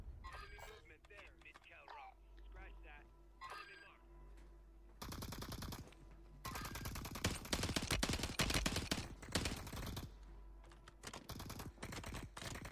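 Rapid automatic gunfire from a video game, bursts of dense shots in the second half, loud and close, with someone talking over the firing.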